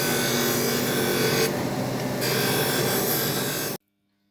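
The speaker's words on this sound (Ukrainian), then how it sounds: "закінчив я шліфувати головку" A steady, loud abrasive rasping of sanding against a metal MTZ tractor cylinder head runs continuously, then stops abruptly into silence.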